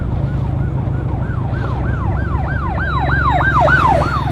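A police car siren wails in repeated rising and falling sweeps over road engine rumble. It grows steadily louder as the vehicle approaches.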